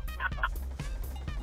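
Short burst of a chicken-like fart sound effect in a video game, a few quick gobbling, fowl-like squawks in rapid succession, fairly quiet and heard alone.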